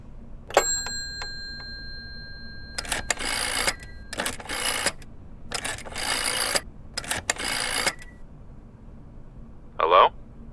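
Rotary telephone being dialed in the horror video game Layers of Fear: several bursts of whirring clicks at a steady rhythm, close and clear, after a couple of tonal beeps, ending with a short click near the end.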